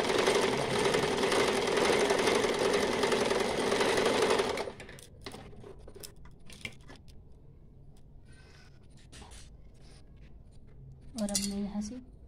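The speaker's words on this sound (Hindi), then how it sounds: "गाइज, मैं आपको अब मास्क की सिलाई लगा के दिखा रही हूँ।" A sewing machine stitches a fabric face mask, running loud and steady for about four and a half seconds, then stops, leaving soft handling clicks and a brief bump near the end.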